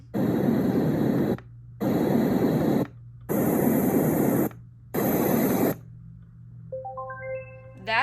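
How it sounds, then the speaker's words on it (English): A Dreamegg white noise sound machine plays steady broadband hiss in four loud bursts separated by short silent gaps, followed by a faint rising sequence of electronic beeps. "Just another white noise sound."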